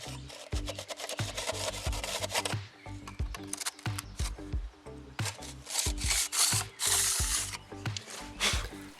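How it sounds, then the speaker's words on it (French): A knife trims excess fresh mortar from a repaired stone molding above a turret. Close, repeated scraping and rasping strokes run over steady rhythmic low thumping. "on vient recouper au couteau les parties excédentes"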